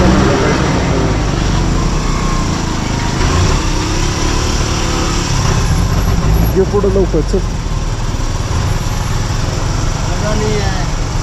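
An army vehicle passes on a mountain road on a trip to Ladakh, with a loud continuous engine drone close by as people talk over it.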